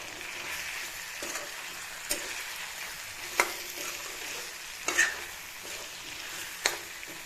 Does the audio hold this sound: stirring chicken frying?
yes